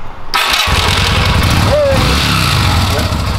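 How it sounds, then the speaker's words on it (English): A Yamaha Virago 250 motorcycle cranks briefly, then fires and catches into a loud, throbbing idle right up close, the engine note settling and running steadily to the end. "And then just start her up"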